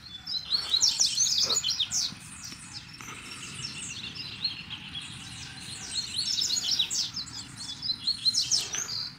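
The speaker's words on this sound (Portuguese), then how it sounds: "Pra mim os passarinhos cantam lindo." Small birds, coleiro (seedeaters), chirp and trill in quick overlapping bursts, bright and fairly close, continuing throughout over a quiet background.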